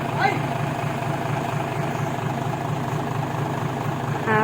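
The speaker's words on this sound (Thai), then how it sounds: "เสียงเครื่องยนต์นะคะ" A classic large Thai truck with a 210-horsepower engine and a six-ton body idles at a dealer's lot, a steady low diesel rumble that runs evenly throughout, loud and close.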